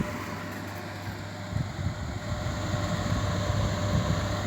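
A Sunbeam water evaporative cooler with cooling off and fan on max speed, a steady broadband whoosh of moving air with a low hum that swells and grows louder after a second or so, close and continuous.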